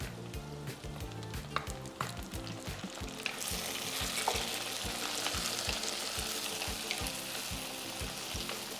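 Onion and garlic sizzle in hot oil for a traditional paruppu urundai kulambu, a steady close crackle with rhythmic stirring scrapes early on, then a denser hiss, with no voices.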